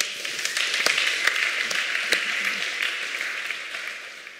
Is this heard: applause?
yes